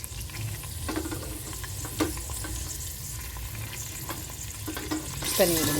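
Mint and coriander frying with golden-brown onions crackle in a steady sizzle, with occasional spoon scrapes and stirring knocks and a short spoken remark near the end.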